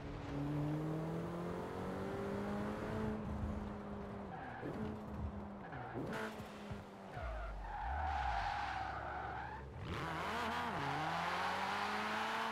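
A 4x4 car is driven in a video game on a rainy, slippery road, with a droning engine that revs and drops and with tire skids, steady and loud, with no talking.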